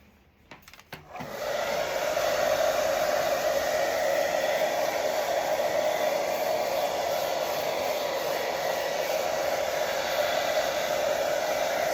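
A hair dryer blows steadily on heavy cardstock to dry matte medium, a loud continuous whooshing hum starting after a second of brief handling noise and holding unchanged to the end.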